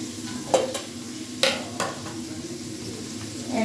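Manchurian tempering sizzles and crackles quietly in a pan, with a few sharp metallic scrapes and taps of a spoon stirring against the pan over the steady frying hiss.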